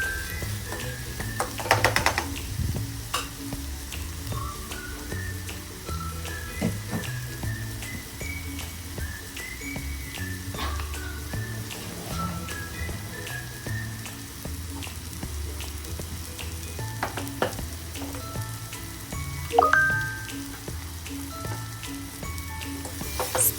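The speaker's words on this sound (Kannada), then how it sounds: "ಸ್ಪೈಸಸ್ ಆ್ಯಡ್ ಮಾಡಾದಮೇಲೆ ಕೂಡ ನೀಟಾಗಿ ಫ್ರೈ ಮಾಡ್ಕೋಬೇಕು." Onions and Italian spices sizzle steadily in a pan, a low continuous fry broken by occasional scraping stirs and small crackles, close and moderately quiet with no talking.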